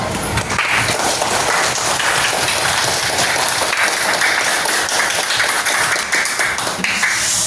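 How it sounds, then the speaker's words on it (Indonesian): A crowd claps steadily and continuously, broad dense applause filling the whole stretch at a fairly loud level with no talking over it. "silakan kalian memberi applause atau tepuk tangan ya"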